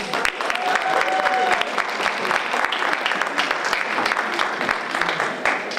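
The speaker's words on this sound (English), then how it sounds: "So let's give a round of applause" An audience at a women of color entrepreneur conference applauds an introduced speaker, dense steady clapping filling the room at fairly close range for about six seconds with a faint voice briefly audible.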